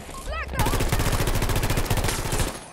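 Rapid automatic bursts from a VHX rifle in Battlefield 2042 hammer out close and loud, a sustained string of evenly spaced shots lasting about two seconds after a brief electronic chirp.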